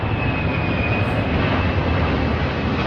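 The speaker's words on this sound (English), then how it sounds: "Hear it powering up." A firefighting airplane's engines power up in a loud, steady, close roar that continues without a break and with no voices.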